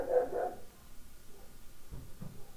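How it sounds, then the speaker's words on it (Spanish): A dog barks a couple of times close by at the start, followed by quieter muffled yelps and movement sounds over low background noise. "no ladres"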